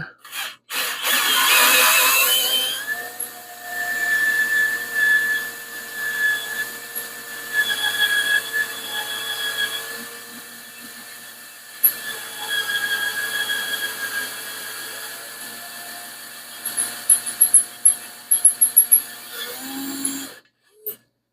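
A drill whirs in several long bursts, starting and stopping and grinding through blocks of wood under a table, loud and close, with brief clicks between runs.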